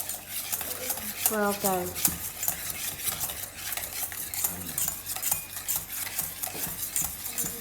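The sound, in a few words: stirring cupcake batter in a bowl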